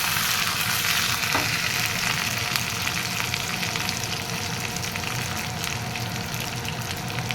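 Dried red chilies and curry leaves fry in hot tempering oil for a cucumber tambuli, giving a loud, steady crackling sizzle that fills the whole stretch without any talk.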